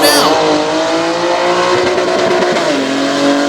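A tough truck's racing engine roars as it charges down the dirt track at Selinsgrove, Pennsylvania, loud and close, with sustained revving that dips and rises again near the end, under a faint voice.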